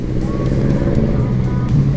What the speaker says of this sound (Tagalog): Naririnig ko yung makina no.